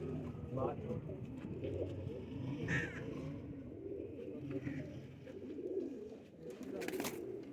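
A group of about ten pigeons coo softly amid a busy cluster of bird calls, with occasional sharper chirps and a faint burst of higher noise toward the end.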